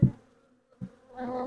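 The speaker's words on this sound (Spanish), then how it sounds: "Mira, qué cantidad de abejas." A short burst of honeybee buzzing, then silence, then a steadier buzzing hum of bees rising near the end, fairly close.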